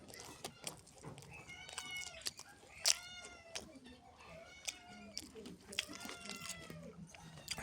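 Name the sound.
cats meowing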